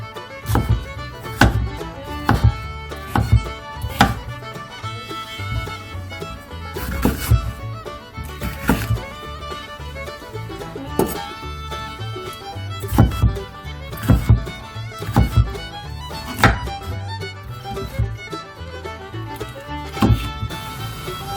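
A knife chops bell pepper on a cutting board while jjapaguri is being prepared, sharp chops landing in irregular clusters over steady background music.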